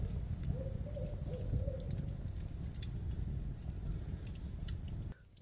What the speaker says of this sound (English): The owls have me up.